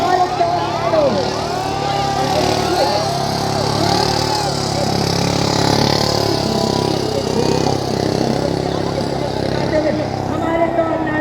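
Motorcycles ridden in formation at an Army Day parade in Jaipur, carrying a women's stunt team in a pyramid, give a steady engine drone under crowd noise and a loud commentator throughout.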